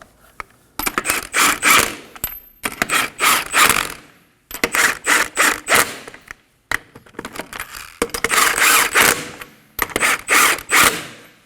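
A hand ratchet snugs the sway bar link nuts on a Kia Optima, with repeated bursts of fast, close clicking separated by short pauses as the handle is swung back and forth.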